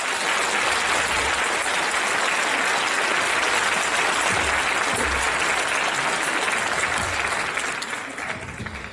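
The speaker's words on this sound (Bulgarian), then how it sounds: "И сега, наистина, бурни аплодисменти за човека, който наистина има голямо сърце." Sustained, loud audience applause at a Blagoevgrad charity event, a dense wash of clapping lasting about nine seconds and easing off slightly at the very end, with no talk over it.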